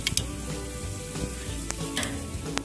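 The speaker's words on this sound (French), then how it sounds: "Sur un grill très chaud, on va déposer notre steak dans la position 10 heures" A steak sizzles steadily on a very hot barbecue grill, a continuous close crackling hiss with a few sharp spits and pops rising above it throughout.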